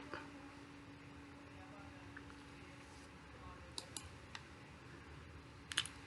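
A computer mouse clicks while working in structural design software for a tall building: a few sparse, faint, sharp clicks over a quiet room hum, no talking.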